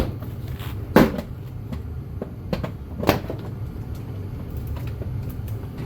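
A door panel is pried off a 2022-or-later Toyota GR86, with two sharp plastic clip pops and several lighter clicks and rattles over a quiet background.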